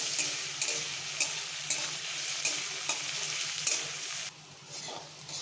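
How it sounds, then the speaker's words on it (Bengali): Onions frying with a little salt in a pan for khichuri, giving a steady close sizzle with periodic soft stirring scrapes, the hiss dropping briefly near the end. "পেঁয়াজটা আমার বেশ ভাজা ভাজা হয়ে এসছে"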